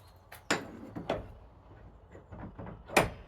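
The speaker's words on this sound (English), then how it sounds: "Let's just try the door." Someone tries a locked old door on a building with weathered gargoyles, producing a few knocking rattles and thuds from the handle and frame, close and fairly quiet, with a louder clunk near the end and no speech.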